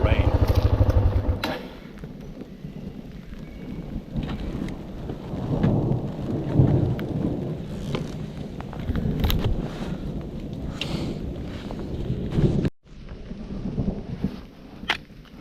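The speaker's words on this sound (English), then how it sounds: "You hear the thunder? It starts to rain." Thunder rumbles and steady rain falls in a forest during a thunderstorm on a trail ride, with a loud low roll at the start, a constant hiss of rain and some faint speech in places.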